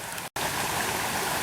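Frog Creek flowing at night, a constant close rushing and gurgling of water with a brief dropout before the steady wash resumes.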